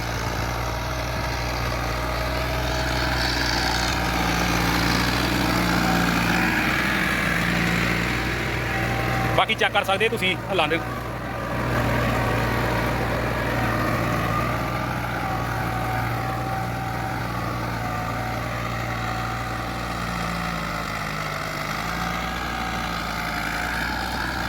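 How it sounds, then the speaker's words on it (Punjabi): An ATS 290 82 hp tractor engine held at a fixed 1700 RPM, a steady loud diesel drone with a deep low hum throughout and a brief rattling clatter partway, while someone talks over it. "1700 RPM ਤੇ ਟਰੈਕਟਰ ਚੱਲਣ ਡਿਆ ਵਾ, ਫਿਕਸ 1700 RPM ਕੀਤਾ ਟਰੈਕਟਰ ਦਾ"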